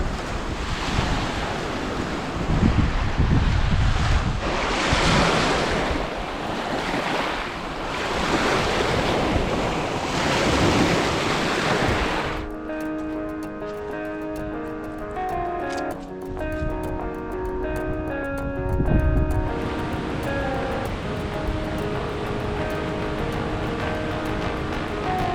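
Waves from Lake Superior wash and surge near the mouth of a small river, a loud continuous roar with wind buffeting the microphone, later mixed with soft background music.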